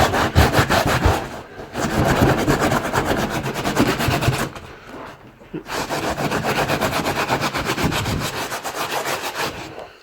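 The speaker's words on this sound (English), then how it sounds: "you rub your hand back and forward over it" Steady back-and-forth rubbing of a hand over a board on a car being prepared for a flip, a close, continuous scraping rhythm with one brief pause.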